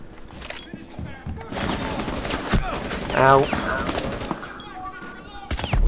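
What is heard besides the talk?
gunfire in Rainbow Six Siege video game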